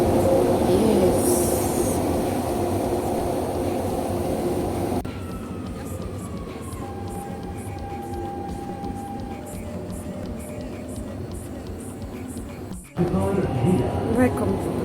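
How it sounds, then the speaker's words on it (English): A Dubai Metro train runs on a rainy day, its rumbling roll carrying on throughout, with a rising tonal whine in the middle, a brief sharp cutoff and then louder rolling noise again; people talk over it. "The next train is coming."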